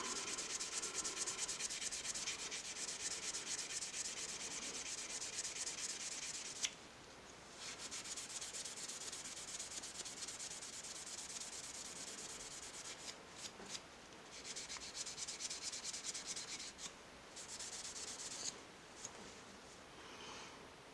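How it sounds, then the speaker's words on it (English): Steel wool rubbing back and forth along the blade of an old vintage Ka-Bar jack knife, a steady close scratchy hiss of sanding strokes with a brief pause midway and a few short breaks later. "now I'm just going to take some steel wool and rub the blade some"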